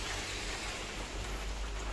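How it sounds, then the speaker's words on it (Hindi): Steady rain falls over rice paddy fields at midday, a dense continuous hiss with low rumbling, even and unbroken, with no talking. "और बारिश लगी हुई है"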